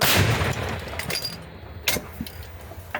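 An M119 howitzer fires in a frontline combat setting near Bakhmut, giving one loud blast at the start whose rumble trails off, followed by lighter clanks and handling noises.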